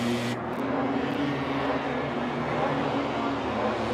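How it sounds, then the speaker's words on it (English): MotoGP bike engines fired up in the pit lane at Sepang, Malaysia, a steady droning engine hum with low harmonic tones holding at constant level, moderately near and unbroken. "You can hear some engines being fired up in pit there."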